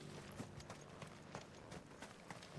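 A horse's hooves clip-clop at a steady walking pace in Final Fantasy XVI, faint and even, with evenly spaced soft knocks throughout.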